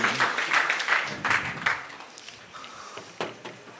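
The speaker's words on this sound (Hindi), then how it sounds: "तालियां इस जिम वाले रोप के लिए।" An audience applauds a rope magic trick at a Geeta Ashram show, a burst of clapping that fades and thins over a few seconds to scattered claps.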